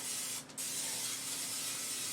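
A short, steady hiss of an aerosol cooking spray sprayed into a pan on an electric stove, close by, continuing for about two seconds with a brief break early on.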